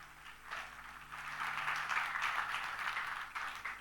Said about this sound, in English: let's hear it up with a big round of applause